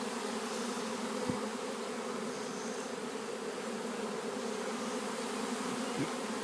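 A swarm of honey bees buzzes in a dense, continuous drone at moderate distance, steady and unbroken, with a couple of faint thumps and no voices.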